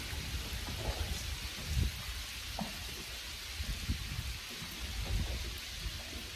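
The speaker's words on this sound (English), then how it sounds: "Good old rain." Rain falls steadily under a bridge during a fishing outing, a continuous hiss of drops with occasional louder patters and splashes nearby.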